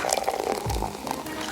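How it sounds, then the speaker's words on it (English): Strawberry coconut water drink poured over ice, a brief splash and glug of liquid with faint clinks, heard close up and alone. "we're just going to go ahead and pour over ice and taste"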